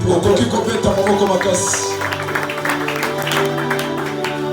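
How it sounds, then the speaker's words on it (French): An audience at a church seminar applauds, steady clapping from a crowd running throughout, mixed with music and voices in the room. "Est-ce que tu peux applaudir?"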